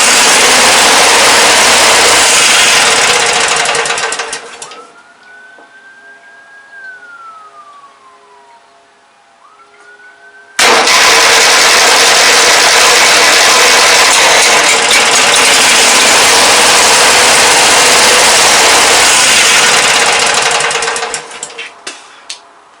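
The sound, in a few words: Briggs 17hp opposed twin engine on Murray lawn tractor running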